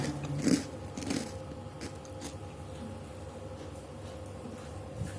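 Crispy baked vegetable snacks, including cucumber and eggplant chips, are bitten and chewed close up, with a couple of sharper crunches at the start, then quieter steady chewing.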